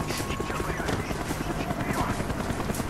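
A helicopter in the video game Call of Duty: Black Ops thrums continuously with a fast, choppy rotor beat that stays at a steady middle distance throughout.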